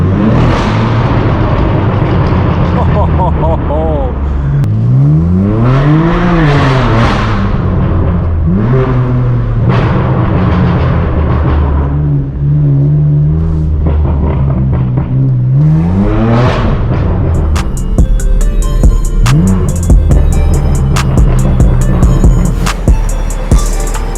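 Straight-piped BMW M4 F82 accelerating hard: a loud, raw exhaust roar climbing through repeated revving pulls, each rising in pitch then dropping at the shift, with crackles near the end and no talk.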